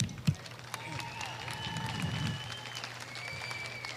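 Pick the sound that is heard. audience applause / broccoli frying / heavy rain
audience applause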